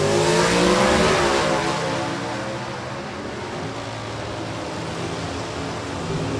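Drag racing cars in the Superstock and GT/E automatic classes launch at Maple Grove Raceway, their loud, roaring engines sweeping upward and then settling into a sustained distant drone down the strip.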